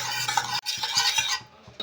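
A spoon scraping and stirring a paste of sour yogurt, cashew and white sesame with onion in a pan for fish malai curry, brisk scrapes and a soft sizzle, broken by a short pause before another stroke.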